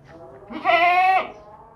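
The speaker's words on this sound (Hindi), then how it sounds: "बकरा बकरी 2 बच्चे हैं इसके, और ये बकरी है अकेली" Goats on a livestock farm with kids, bleating in a single loud, wavering call near the microphone, with quieter animal sounds before and after.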